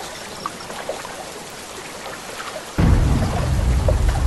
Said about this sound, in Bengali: অদ্ভুত ব্যাপার, লোকটা বলার সাথে সাথেই বৃষ্টি শুরু হলো।